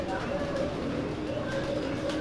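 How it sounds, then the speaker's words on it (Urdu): A breeder's pigeon coos in soft, repeated low calls while someone talks over it nearby, with a steady murmur of other birds in the loft. "نیلی آنکھ میں کبوتری ہے یہ بھی"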